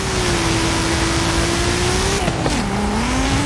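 Loud, close engine drone from a light all-wheel-drive Pulsar car in Forza Horizon 5, steady at first, then the pitch drops sharply around a gear change and climbs again as it accelerates.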